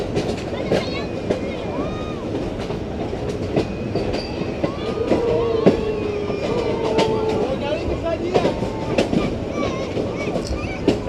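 The 108 DN New Islamabad Express rolls along the rails on its inaugural run, with a steady rumbling clickety-clack, wheel noise and a faint squeal throughout, and voices murmuring in the background.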